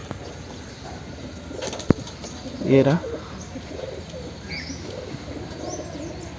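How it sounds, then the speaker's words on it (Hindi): A pigeon coos once, a short low throaty burble close by, over steady outdoor background noise, with a sharp click just before and a person speaking briefly. "ये वाला कबूतर को देखिए ये लंगड़ा रहा है"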